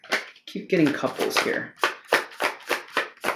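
Rapid riffling bursts of cards being shuffled, repeated in quick rhythmic pulses, close up with a voice talking briefly at the start.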